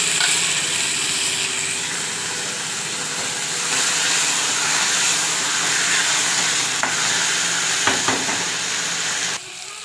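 Onion and tomato sautéing in a pan on a gas stove while cooking chole masala, a steady broad sizzle with occasional stirring scrapes, close and continuous, no talking.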